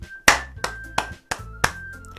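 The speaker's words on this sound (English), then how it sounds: "The four of us applaud." A handful of sharp hand claps, about five, spaced unevenly and close by, sounding like a small group applauding sparsely.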